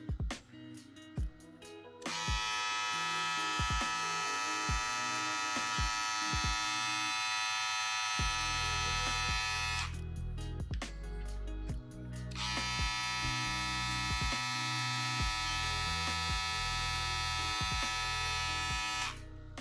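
A VGR V086 2-in-1 electric foil shaver runs with a steady high buzz in two long bursts, separated by a short pause, with handling clicks and knocks at the start and between bursts.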